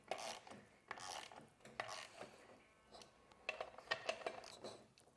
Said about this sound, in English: and then we can torque those to where they need to be. 9/16 socket.